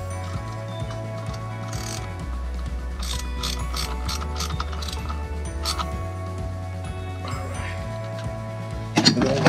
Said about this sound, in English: we're gonna tighten this up now